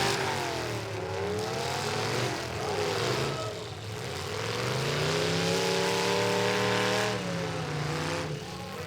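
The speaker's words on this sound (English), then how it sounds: "it sounds awful rattly" A rattling car in a youth demolition derby event roars with a loud, continuous engine sound whose pitch rises and falls as it revs, heard steadily throughout.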